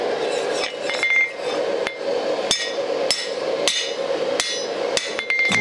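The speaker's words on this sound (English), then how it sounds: "These may look like some real lazy hammering strikes, but they're very purposeful." Hammer strikes forging a battle axe on an anvil: bright metallic clangs with ringing overtones, about ten evenly paced blows roughly every half second to second, close and loud, with no talking.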